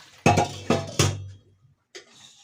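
Metal pots, pans and utensils being washed in a home kitchen sink: three sharp clanking knocks in quick succession, then a softer clink and splashy scrubbing after a brief pause, close by.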